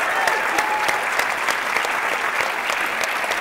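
Loud, continuous applause from a theatre audience for the dance academy performers at a preview show, a thick, sustained roar of clapping with no pauses.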